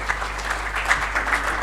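Audience applause at a business roundtable after a speech, a steady wash of clapping from many hands held at an even level throughout with no talking over it.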